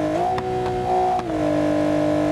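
A car engine with a loose exhaust revs in BeamNG.drive, holding a steady droning pitch that rises briefly, then drops back, loud and close with no talk over it.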